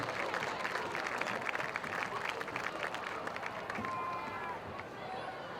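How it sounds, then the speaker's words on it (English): A crowd at a high school football event applauds a hall of fame inductee with steady, moderately distant clapping that tapers near the end, while voices and background chatter carry on beneath. "How about a nice round of applause for Jake Hammer, class of 2011."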